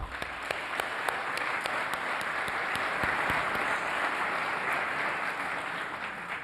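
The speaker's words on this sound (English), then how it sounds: "let's give them all a great round of applause as well." Steady, dense audience applause fills the air at the Smithsonian Folklife Festival welcome ceremony, with many hands clapping continuously and a few sharper individual claps standing out.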